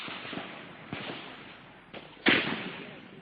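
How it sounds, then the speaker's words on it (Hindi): An automatic gun fires during a Naxal attack in Chhattisgarh, producing four sharp, irregularly spaced bangs with echoing tails; the last report is the loudest. "ये गोलियां दाग रही है"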